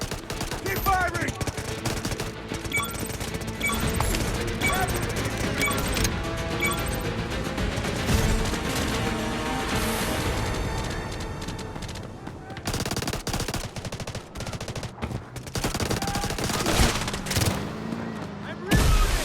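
Automatic gunfire from the mobile shooter Delta Force Mobile in an attack-and-defend match: near-continuous dense rattling fire and scattered impacts, with shouted squad callouts mixed into the battle noise.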